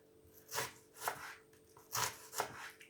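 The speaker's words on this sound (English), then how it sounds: "Slice all the onion like this." A knife slices an onion on a chopping board in a home kitchen. Four distinct, crisp cuts land at an uneven pace, close and fairly quiet, with no talking.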